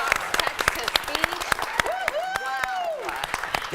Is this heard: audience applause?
yes